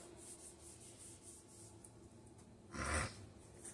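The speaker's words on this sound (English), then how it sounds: "wipe off any excess dirt that you might have on said shop vac" A rag wipes dirt off a shop vac in quick, faint rhythmic rubbing strokes, followed by one louder, fuller swipe near the end.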